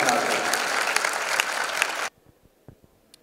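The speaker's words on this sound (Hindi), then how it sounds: "आपकी जोरदार तालियों के बीच" Applause from a studio audience greets a contestant in the grand finale of a televised talent show, a dense burst of clapping that cuts off abruptly after about two seconds, leaving faint scattered claps and quiet.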